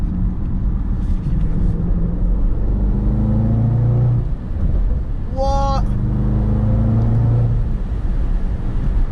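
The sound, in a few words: sports car engine accelerating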